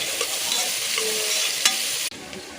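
Onions are stirred in a cooker for attukal paya, a steady close sizzle with scraping spoon strokes and one sharp clink before the frying noise drops to a softer hiss near the end.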